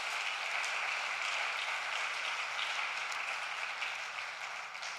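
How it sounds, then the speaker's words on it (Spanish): A church congregation applauds during a sermon on the cross, a dense, steady wash of clapping held at a moderate, somewhat distant level for the whole span. "Denle un fuerte aplauso a nuestro Señor Jesucristo."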